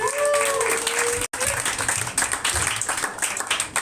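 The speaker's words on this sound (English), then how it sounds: "please keep that applause going" Dense applause from a comedy festival crowd in Phoenix, steady and sustained with some whooping, briefly cut off then resuming.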